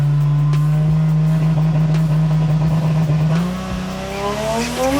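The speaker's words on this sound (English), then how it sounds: "We're about to take off. Freaking like launch control in it." A VL Turbo car launches hard on launch control, its engine revving loud and close and then climbing steadily in pitch as it accelerates away.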